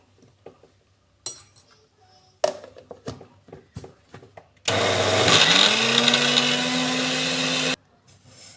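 A mixer grinder grinds batter for medu vada. Scattered clinks and taps of utensils come first, then the motor starts up with a loud, steady whirring drone that holds for about three seconds before cutting off.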